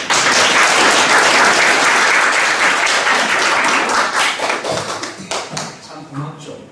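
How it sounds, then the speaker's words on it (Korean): Loud, close audience applause in a meeting hall filling the opening seconds, then tapering into separate claps and thumps as a voice begins speaking. "박수 한번 주세요"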